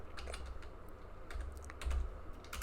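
Quick, light keystrokes tapping out code on a computer keyboard, a steady run of soft clicks heard close and fairly quiet, with no talking.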